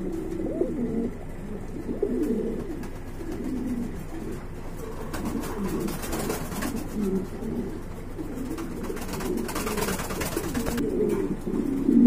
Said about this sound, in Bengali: আর এক জোড়া কবুতর দেখতে পাচ্ছেন